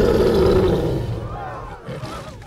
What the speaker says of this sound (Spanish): ¡El rugido, campeón! ¡El rugido!